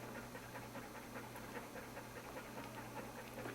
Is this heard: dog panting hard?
yes